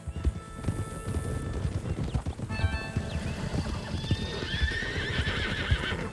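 Several horses whinny and neigh over a steady, rumbling clatter of galloping hooves in Red Dead Redemption 2, loud and close throughout.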